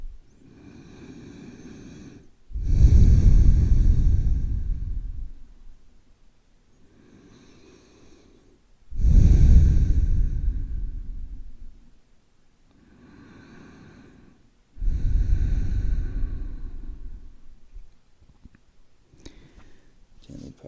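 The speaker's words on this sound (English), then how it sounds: "A couple breaths." Slow, deep breaths during a belly-down yoga relaxation pose, three long loud exhalations spaced about six seconds apart with quieter inhales between, close and unaccompanied by talk.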